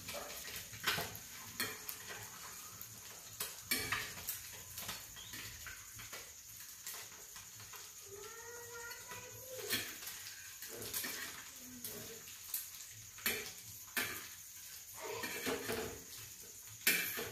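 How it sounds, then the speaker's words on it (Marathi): Eggs frying in a pan, a soft background sizzle broken by repeated scraping and stirring strokes and a few clatters, fairly quiet with no speech. "चांगले अंडे फ्राय करून घ्यायचे आपण."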